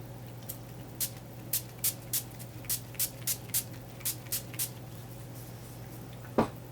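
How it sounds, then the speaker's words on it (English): Makeup setting spray spritzed onto a face in about a dozen quick, evenly spaced bursts, close and fairly soft over a low steady hum, ending with one louder knock. "Let's try the setting spray."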